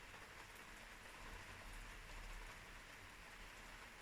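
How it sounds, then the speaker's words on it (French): Rain falls outside in a steady, even hiss of drops that stays constant and soft throughout, with no voices heard. "Vous entendez la pluie?"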